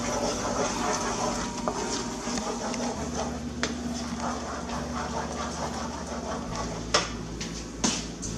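A spoon stirs sugar into a sweet salad mixture in a pot, making continuous scraping and clinking against the pot, with a couple of sharper taps near the end, over steady background noise.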